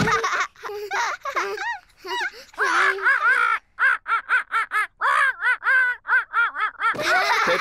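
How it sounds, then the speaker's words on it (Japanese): A cartoon parrot squawks in a quick run of short, bright, repeated calls, loud and close. A child-like voice speaks briefly at the start and end. "ペッパとジョージはオウムのポリーと遊ぶのが楽しくて仕方ありません"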